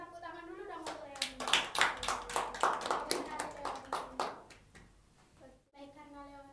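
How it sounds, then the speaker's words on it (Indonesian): A small group claps hands together in a burst of applause lasting a few seconds, sharp and fairly close, tapering off, with voices speaking briefly before and after. "beri tepuk tangan dulu dong untuk Leoni."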